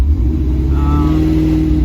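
A 1979 Chevrolet El Camino with a 350 small-block V8 idling and revving while still cold, a loud, steady low rumble with a sustained engine drone, heard up close.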